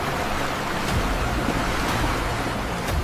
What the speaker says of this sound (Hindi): तेज हवाएं, लहरों का शोर